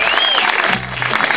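Church congregation clapping hands together, a dense continuous patter of many hands filling the room at fairly loud level, with a faint voice underneath.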